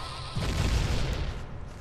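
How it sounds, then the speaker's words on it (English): A bomb goes off in the video game Ocarina of Time, a single deep boom with a rumbling tail that swells and fades over about a second against steady game background sound. "you blow them up like that, they will explode"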